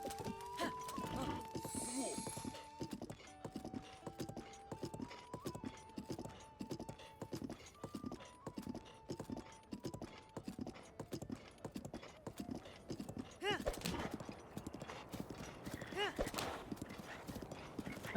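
Horse hooves clip-clop in a steady rhythm during riding in Zelda: Breath of the Wild, with an occasional whinny and a melodic game jingle alongside, while someone talks over much of it.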